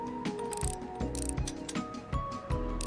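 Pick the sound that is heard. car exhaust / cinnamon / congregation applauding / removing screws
removing screws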